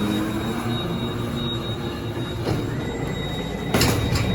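Heavy freight elevator doors slide shut with a loud, sustained metallic rumble and squeal, ending in a harsher burst of noise as they close, in a sub-basement of a university's ThyssenKrupp traction freight elevator.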